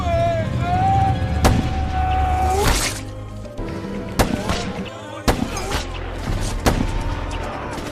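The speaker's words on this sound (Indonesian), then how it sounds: "Setelah baku tembak yang lumayan sengit, Brandon dan Martin berhasil mengalahkan pemberontak" Gunfire in a fierce shootout: sharp, loud single shots crack at irregular intervals over a continuous background roar, with voices heard early on.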